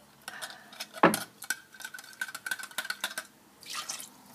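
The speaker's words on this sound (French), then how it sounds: "Bien rincer le fond." Water is swirled around the bottom of a cooking pan, making a brief clank followed by a quick series of light splashes and drips, close and quiet with no talking.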